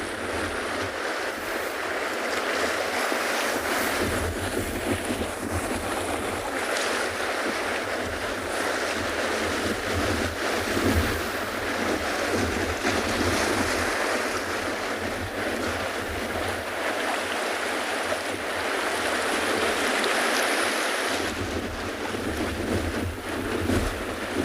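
Stormy ocean surf at a penguin beach, with a continuous roar of crashing waves and gusting wind noise buffeting the microphone, loud and unbroken throughout.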